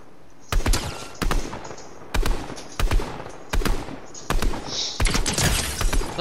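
Rapid gunfire in Fortnite comes as a string of loud, close bursts roughly every half second to second, ending in a sustained volley.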